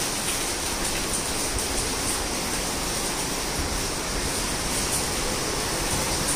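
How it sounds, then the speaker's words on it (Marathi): Heavy monsoon rain pours steadily outside, a dense, even hiss filling the whole stretch with no pauses; no one speaks. "हो पण बाहेरचं दाखव ना किती मस्त पाऊस"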